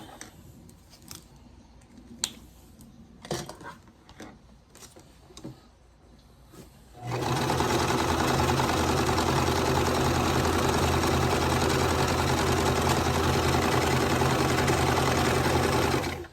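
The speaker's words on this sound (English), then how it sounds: "So I'll go ahead and sew the other one." A sewing machine stitching quilt pieces, starting after a few soft clicks and handling sounds, then running in a steady, even whir until the seam ends.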